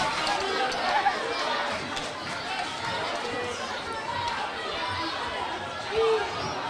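Loud indoor gym crowd at a girls CYO eighth-grade basketball championship game, a steady roar of cheering and chatter with brief swells, near and continuous.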